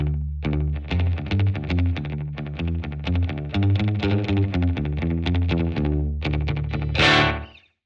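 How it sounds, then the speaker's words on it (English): Slapback delay on a guitar from an auto delay unit: rapid picked notes, each followed by a short echo, in a busy continuous run, then a final burst of noise as it cuts off; close and loud. "here's the basic kind of delay slapback sound"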